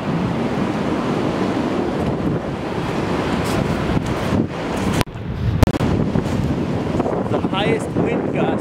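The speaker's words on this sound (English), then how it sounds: "I can't even talk into the wind." Strong wind from an ice storm roars and buffets the microphone in heavy, continuous gusts, with a couple of sharp knocks and a faint voice partly buried.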